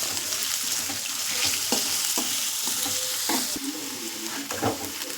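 Onions and curry leaves frying in oil in a village-style kitchen, a continuous crackling sizzle punctuated by repeated knocks and scrapes of a spoon stirring the pan, near and unaccompanied by talk.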